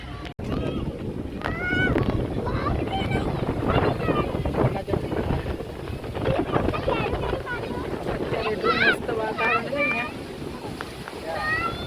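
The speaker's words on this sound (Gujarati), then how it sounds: "અત્યારે એટલો પવન ચાલુ છે." Strong wind buffets the microphone in low rumbling gusts at a riverfront children's play area while people talk and chatter throughout.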